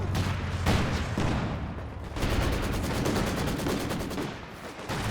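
A 222 armored car firing steadily in Company of Heroes 2, a dense, continuous rattle of automatic fire mixed with explosions and battle noise, loud and close, with no talking.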